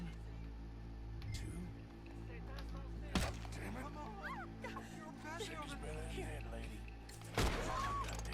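Gunshots in the Western video game Red Dead Redemption crack out as two sharp, loud reports a few seconds apart over game ambience and character chatter.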